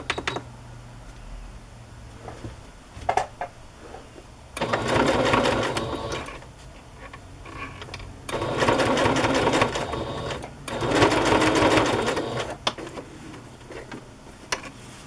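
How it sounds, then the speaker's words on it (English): A sewing machine stitches fabric for a journal cover in three sustained bursts of steady, close whirring, with quiet handling noises in the pauses between runs. "wait till you have the front all sewn together before you sew the muslin or fabric to the back"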